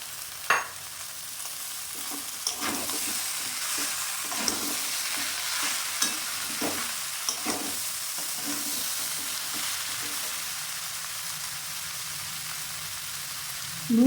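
Boiled, squeezed banana flower frying with turmeric in a pan for a Bengali shrimp dish, a soft continuous sizzle broken by intermittent stirring scrapes and light knocks, quiet and close, no talk.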